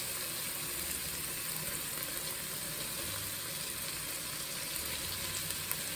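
Sausage fries in a pan, giving a soft, even sizzle that hisses steadily throughout with no talking.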